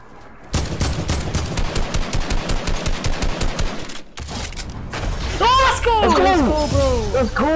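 Rapid automatic gunfire in a video game shooter, a long dense burst of shots followed by further firing and sweeping electronic effects, loud and close, with players talking over it.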